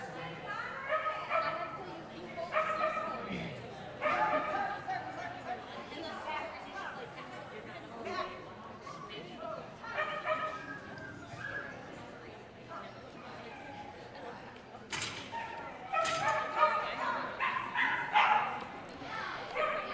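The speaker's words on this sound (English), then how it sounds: "This is Louisa Murphy and her miniature poodle Surf" A miniature poodle at AKC agility team tryouts gives yips and barks over an announcer's ongoing commentary, with crowd chatter and hall ambience beneath.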